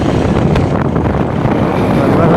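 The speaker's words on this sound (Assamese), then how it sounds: "আজি বেলেগ ট্ৰেক্টৰে হাল বাই আছে" Tractor ploughing a paddy field, a steady rumbling engine drone heard continuously from nearby, roughened by wind buffeting the microphone, with voices talking over it.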